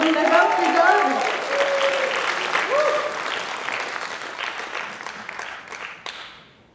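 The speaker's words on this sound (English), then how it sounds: "So give them both a big round of applause." A crowd at the Georgia State Fiddlers Convention fiddle-off applauds loudly for two fiddlers, the clapping gradually fading out over several seconds while a voice speaks over the start.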